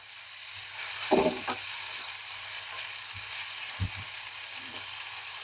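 Tomatoes frying in oil on a high flame, a constant close sizzle with a few brief stirring clatters, no voices.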